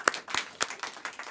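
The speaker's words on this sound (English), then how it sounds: "we can give a little clap to that" A small audience at a community arts annual meeting gives a little clap, a few sparse, distinct handclaps spaced unevenly and fairly close.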